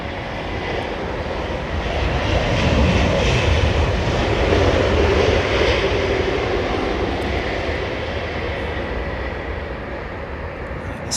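An airliner comes in to land at London Heathrow Airport in a crosswind, its engines giving a loud, broad roar that swells and fades as it passes. Steady rumbling noise lies underneath, and no one talks.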